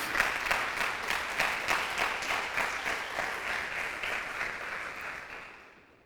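A church congregation claps together in a steady, even rhythm, moderately loud and sustained before fading out at the end.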